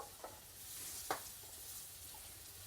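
Chicken livers frying in a skillet, a faint low sizzle with a couple of small clicks from handling, quiet and without talk.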